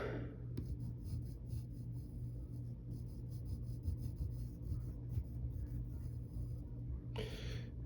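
Pencil drawing a character's eyes on paper, soft close scratching and rubbing strokes in short bursts over a low steady hum.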